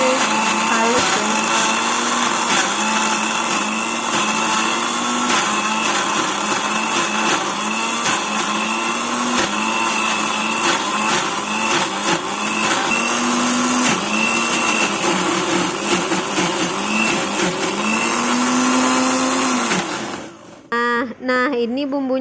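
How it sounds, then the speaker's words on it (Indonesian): An electric blender whirs loudly and steadily for a long stretch as it grinds a spice paste with turmeric for pepes ikan kembung, then cuts out abruptly near the end. "Kita haluskan sampai semuanya itu halus ya."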